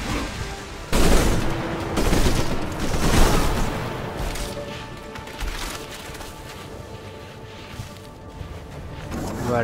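Rapid bursts of gunfire and heavy booms from combat in the strategy game Civilization: Beyond Earth, loud and dense at first, then settling into a rumbling volley of shots with a voice talking over it.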